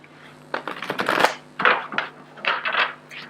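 Tarot cards being shuffled by hand, a series of soft, crisp riffling and slapping bursts of varying loudness, close up against a faint steady hum.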